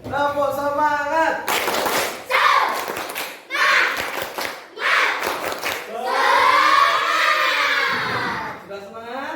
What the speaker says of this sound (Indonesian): Yuk, biar semangat, kita tepuk semangat dulu.